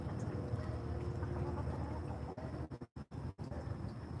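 Chickens cluck softly over a busy low background, with a few sharp knocks near the end.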